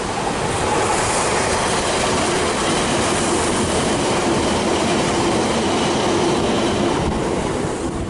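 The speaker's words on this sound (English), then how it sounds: "The railway in Devon, England is considered one of the most scenic as it runs along the coast." A train running along a coastal railway in Devon, England, rumbles steadily and loudly from start to finish, a dense, continuous rolling roar with no voices.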